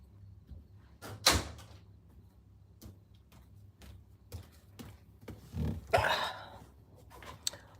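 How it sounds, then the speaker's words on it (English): A household door being pulled shut, with a sharp bang near the start and further thumps and rattles of the door and latch later on, close by with no talk. "Let me go close this door."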